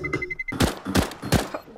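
In Counter-Strike: Global Offensive, three loud, evenly spaced gunshots crack close by after a short series of faint beeps, with no talk over them.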